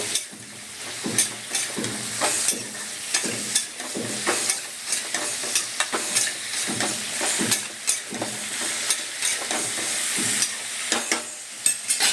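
Pieces of pumpkin, potato and eggplant frying in hot oil, a loud continuous sizzle broken by frequent scraping and clattering strokes of a spatula as the vegetables are stirred, with no voices.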